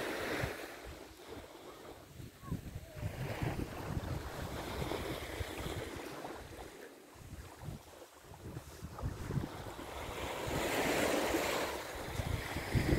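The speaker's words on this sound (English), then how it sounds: "Another day at the beach." Wind buffets the microphone on a beach as waves wash in, a rough, uneven roar of surf and gusts that rises and falls, swelling louder near the end.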